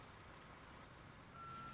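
Truck backing up in Construction Simulator 2022, a thin reversing beep tone sounding over a low engine idle, fairly quiet and with no talk.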